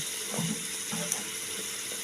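Faint splashing of water poured into a pan of peas and broccoli, a low running trickle under a soft background hiss, with a few light knocks.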